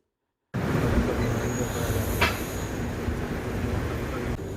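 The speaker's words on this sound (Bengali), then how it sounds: "আজকে আমরা যে ট্রেনটায় পুরী যাচ্ছি সেটা হচ্ছে 22835 শালিমার পুরী সুপারফাস্ট এক্সপ্রেস।" The 22835 Shalimar Puri Superfast Express runs along the track, heard from inside with a continuous loud rumble and wheel roar, a brief metallic squeal midway, no voices.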